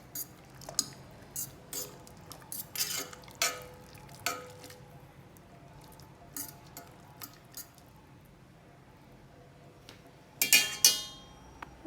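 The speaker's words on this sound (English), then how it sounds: "Just want to stir it." Mac and cheese is stirred in a pot with a utensil, producing a series of separate clinks and scrapes against the pot at an uneven pace, with a busier clatter near the end, over a quiet background.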